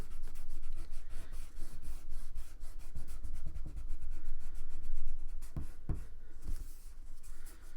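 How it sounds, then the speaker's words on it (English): An eraser scrubs pencil marks off drawing paper in steady back-and-forth strokes, close and soft, with a few sharper taps as it lifts and returns. "So I can erase, pick it up, come back."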